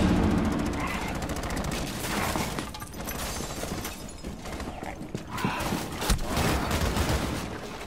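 Gunfire in the Rainbow Six Siege video game rattles in dense bursts over a busy in-game mix, continuous and loud with sharp shots punching through.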